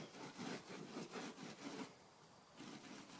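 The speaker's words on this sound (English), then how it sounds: "I'm going to just kind of lightly scrape that, make sure I don't damage the plastics, but get all this residue from the decals off" Pad rubbing and scraping across ATV plastic bodywork to lift old decal residue, in a run of rhythmic back-and-forth strokes that briefly pause before resuming, close and fairly quiet.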